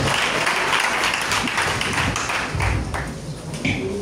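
A church congregation applauds during a French-language service, a steady wash of clapping from many hands that stays dense and even throughout, with faint voices mixed in.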